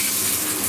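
Water pours steadily over a wet mouse pad being washed, a continuous close rushing and splashing with no talk.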